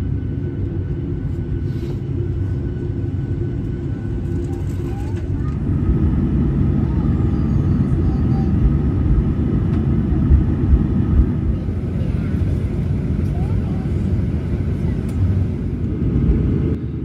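Inside the cabin of a Virgin Australia Boeing 737 waiting for takeoff, a steady, loud low drone of engines and air systems rumbles on without a break, with faint murmuring voices beneath it.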